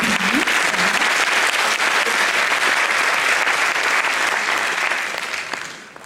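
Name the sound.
audience applause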